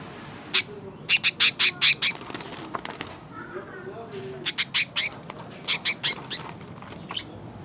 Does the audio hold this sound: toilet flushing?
no